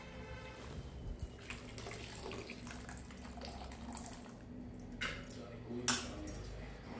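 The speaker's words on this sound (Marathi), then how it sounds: "आता पहिले पाण्याने स्वच्छ धुवून काढते" Chopped cabbage is swished and rinsed in a basin of water, with faint sloshing and splashing, a few sharper clatters, and someone speaking softly.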